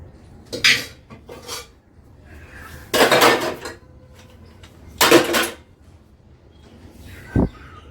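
Pots, plates and utensils clatter and scrape in a home kitchen as leftover vegetables are emptied and the dishes set aside for washing, with several loud metallic bursts separated by quieter handling and a final sharp clink.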